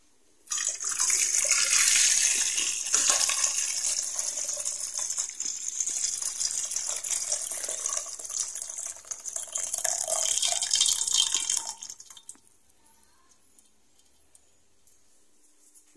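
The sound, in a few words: boiling water being poured out while making cincau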